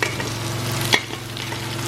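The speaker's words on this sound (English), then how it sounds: "once the water dries up, it starts frying" Egusi soup sizzles and crackles steadily in a pot as its water dries up and it begins frying, over a low mechanical hum, with a brief scrape partway through.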